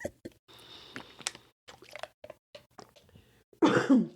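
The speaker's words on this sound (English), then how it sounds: "Let me clear my throat." A person clears their throat close up near the end, a rough loud rasp after a stretch of quiet sips, clicks and small mouth sounds.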